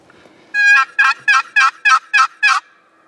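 Wild turkey gobbling during a spring hunt, seven loud, close rattling bursts in quick, even succession with no voices over them.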